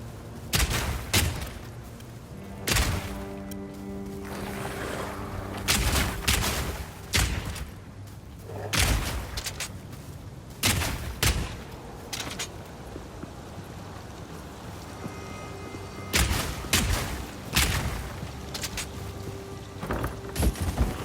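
Guns and grenades in the video game Path of Exile 2, played as a mercenary, firing in loud repeated bursts and single shots with short pauses between, alone with no talk.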